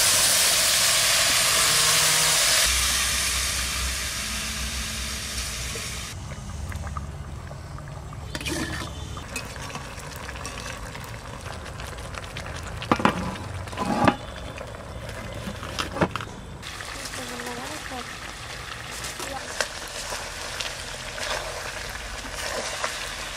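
Mutton frying in hot oil for a dum biryani, a steady loud sizzle and hiss that settles into a softer crackle with scattered spatters and clinks of a spoon against the pot.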